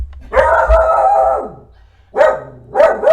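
A dog barks and howls close to the microphone, one long drawn-out howling bark followed by two shorter barks, loud and alone.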